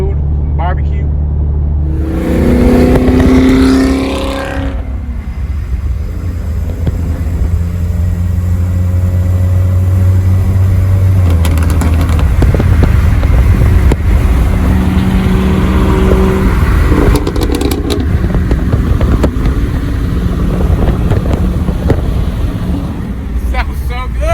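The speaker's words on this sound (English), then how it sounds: "The car sounds so damn good." A Mustang Performance Pack 2 engine revs and drones steadily on the road, rising in pitch early on and then holding a loud, continuous rumble with talking over it.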